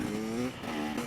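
A motocross bike engine revs hard and steadily during a power wheelie, a loud close buzzing drone with a brief dip in the middle before it climbs again.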